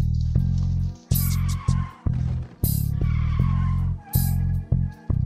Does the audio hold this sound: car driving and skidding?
yes